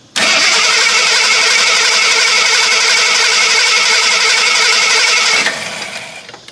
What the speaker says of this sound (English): Try to crank it.